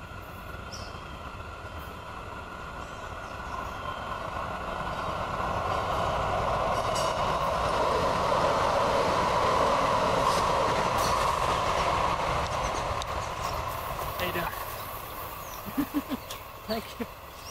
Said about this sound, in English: But again, more trains.